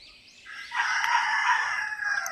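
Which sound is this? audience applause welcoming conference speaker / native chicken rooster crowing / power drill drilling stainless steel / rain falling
native chicken rooster crowing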